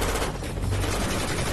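Sustained gunfire in a dubbed TV crime drama about drug mafia, dense broadband bursts filling the whole moment loudly, like rapid rifle fire in a shootout, with no talk over it.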